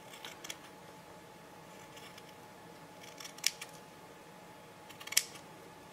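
Scissors cut thin black cotton fabric with a few faint snips, then two sharper, louder crunching cuts spaced apart, set against quiet room hiss.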